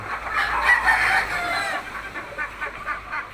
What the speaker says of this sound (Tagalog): alaga talaga natin ang mga manok sa backyard